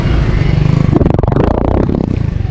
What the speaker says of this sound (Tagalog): Ganito yung tunog ng kanyang engine.